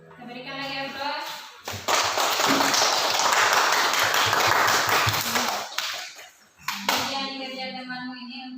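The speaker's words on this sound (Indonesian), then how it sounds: "Kita berikan lagi aplaus." Classroom applause from a group of students, a dense burst of clapping lasting several seconds, with a teacher's voice speaking before and after it.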